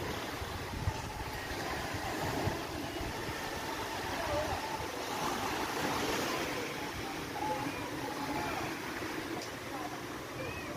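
Steady broadband wash of ocean waves on the beach at Pulau Panjang, West Sumatra, a continuous surf roar with no distinct breaks, moderately loud throughout.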